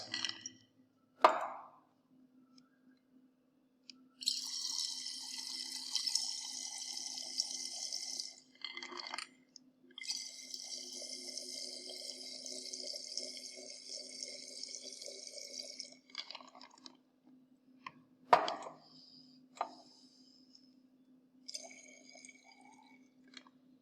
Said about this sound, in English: We have to add 90 ml of water in that conical flask.